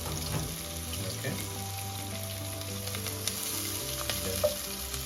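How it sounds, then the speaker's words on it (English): Onion and chili sizzle steadily in a hot frying pan, with occasional clinks and light stirring noises close by; no one speaks. "As the onion and chili are getting fried"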